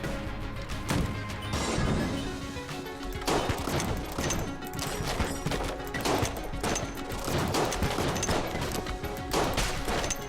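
Rapid gunfire and crashing impacts from the video game Enter the Gungeon, a dense, continuous barrage of shots and hits layered over game music, with no talk.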